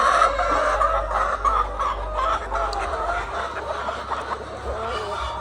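Chickens clucking continuously nearby on a poultry farm, a busy overlapping chorus of clucks with a low hum underneath, no talking.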